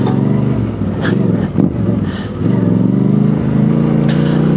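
A fully loaded adventure motorcycle rides off-road along a narrow rutted Yorkshire trail, its engine loud and close, droning and pulsing as the throttle rises and falls, with rough rumbles and knocks from the uneven ground.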